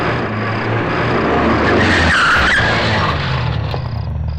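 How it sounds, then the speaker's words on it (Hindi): A car brakes hard and its tires squeal in a long, loud skid lasting several seconds, swelling to a peak and fading as it comes to a stop. "ड्राइवर गाड़ी रोको।"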